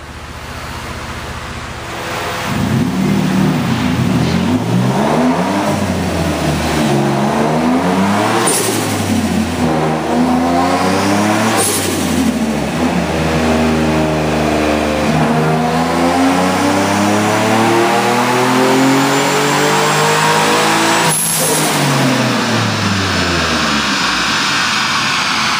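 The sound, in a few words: turbocharged Genesis Coupe 3.8 V6 revving in fourth gear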